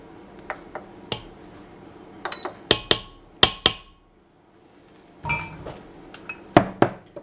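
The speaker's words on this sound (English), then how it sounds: "Going to give this a stir" Red beans and beef being stirred in an Instant Pot, a run of sharp, close metallic clinks and scrapes of a utensil against the pot, arriving in irregular clusters with brief quiet gaps.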